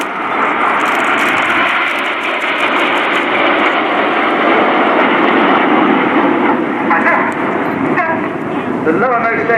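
RAF Red Arrows jet aircraft flying past in Diamond formation at an air display, a loud, sustained broadband roar that holds steady throughout with no break, while a commentator's voice runs faintly underneath.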